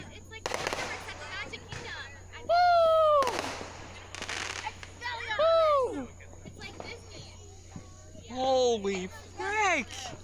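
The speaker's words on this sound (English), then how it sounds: "Our children are setting up fireworks." Fourth of July fireworks set up by children: whistling rockets rise and fall in pitch, mixed with several loud crackling bursts spread across the stretch, fairly near and prominent.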